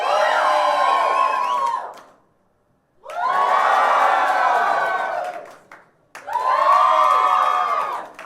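A live comedy crowd at a gong show cheers and shouts loudly in three separate bursts, each lasting about two seconds with abrupt silences between, mixing whoops, yells and some clapping.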